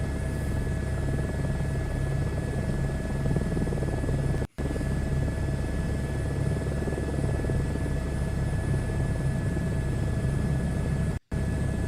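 A helicopter in Microsoft Flight Simulator 2024 gives off a constant loud rotor and turbine drone with a steady high whine, unchanging throughout apart from two abrupt brief dropouts.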